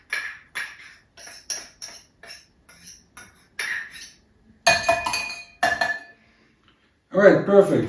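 Metal utensils clink and rattle in a kitchen drawer as a spoon is fetched, a string of sharp bright jingles followed by a louder clattering burst near the end.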